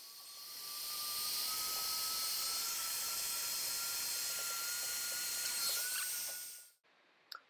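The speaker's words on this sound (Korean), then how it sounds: "입구에다가 인플레이터 바람 넣는 호스를 넣고 이제 전원을 켜게 되면은 킴볼에" An electric inflator pumps air into a kin-ball, giving a steady high whine with a whooshing hiss that runs continuously, then cuts off abruptly near the end, followed by a small click.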